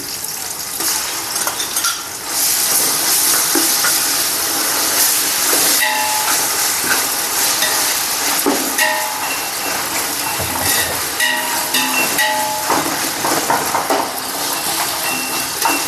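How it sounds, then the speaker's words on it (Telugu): Ginger garlic paste sizzling hard in hot oil for an Andhra-style village chicken biryani, a loud, steady broadband hiss that holds throughout with crackling pops scattered on top. "ginger garlic paste వేసుకున్నామండి"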